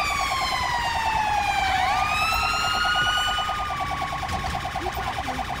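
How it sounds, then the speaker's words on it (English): UK police sirens in the GTA 5 driving game wail continuously, loud and close, sweeping in pitch as the tone changes pattern, with no talk over them. "Let's kill the sirens."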